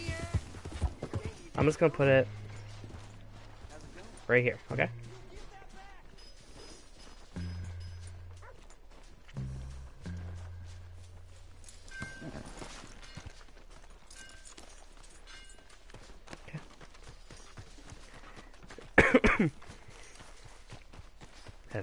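In the Red Dead Redemption 2 video game, a horse's hooves clop in scattered bursts, with a sharp whinny-like cry near the end, set among sparse game sounds while someone talks now and then.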